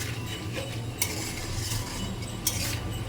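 Potatoes cook in a wok while a utensil stirs them, producing soft scraping and a faint sizzle, with two sharper metallic clinks standing out. No one speaks.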